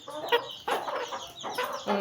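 A small hen perched on a person's shoulder clucks in short, close bursts, several quick clucks in a row with brief pauses between them.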